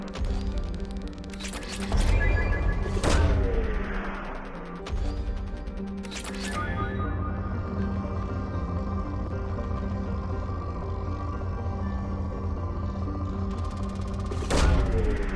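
A probe launches in Mass Effect 2 with sharp whooshing thumps over a steady tonal hum and music, followed by a sustained electronic drone and a final thud.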